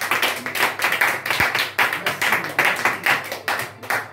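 An audience applauds a man with rhythmic, steady clapping in repeated bursts. The applause is fairly close and clear throughout, with no talking over it.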